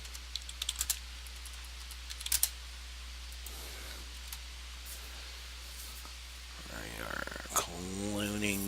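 Computer keyboard typing comes through as scattered clicks and a few quick bursts of keystrokes, fairly quiet over a steady hum, with a voice joining near the end.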